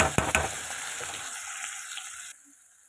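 Kalonji tempering and pumpkin leaf paste frying in oil, a steady broadband sizzle with a few sharp spatters early on, fading to a quieter hiss near the end.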